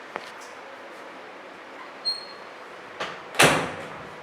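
A pantry door in a Myrtle Beach, South Carolina house opens with a soft knock and a louder bump near the end, the door carrying shelving, heard fairly close in a quiet room.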